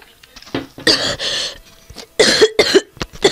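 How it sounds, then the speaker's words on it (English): A person coughs repeatedly at close range, harsh bursts in two clusters with a short pause between, loud and raspy. "I'm coughing still awfully, but it's better."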